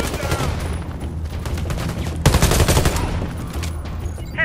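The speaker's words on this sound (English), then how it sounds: "Heavy machine guns are shielded." Heavy machine gun fire in the Warface shooter game, sustained rapid bursts of loud automatic shots with a fuller volley midway, continuing almost without pause over a busy battle din.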